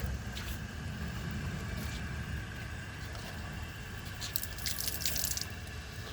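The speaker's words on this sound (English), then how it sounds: "I'm just going to add some water to the bowl" Water runs and trickles steadily into a Sterling Windham toilet bowl at low volume, with a few brighter splashy drips toward the end.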